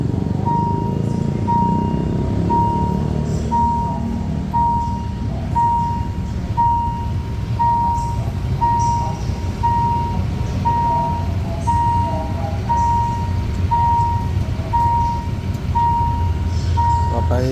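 A train passes a level crossing while the crossing bell dings in a steady, evenly spaced rhythm over a loud, continuous low rumble of wheels and engine.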